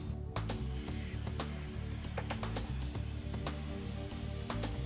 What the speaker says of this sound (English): The pilot arc transfers to the workpiece and becomes the cutting arc